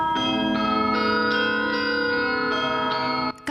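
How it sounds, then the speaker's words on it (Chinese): A large bell tolls repeatedly in a slow, steady rhythm over empty city streets in wartime Odesa, its long ringing overtones carrying clearly with no voices heard. "较长的钟声伫拢无人的街路顶响起，气氛特别沉重。"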